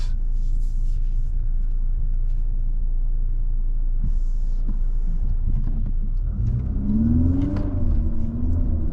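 A 2023 Infiniti QX55 Luxe AWD SUV rolls past and turns around, starting as a steady low road rumble and building into a nearer engine hum that rises and falls in pitch as it swings back.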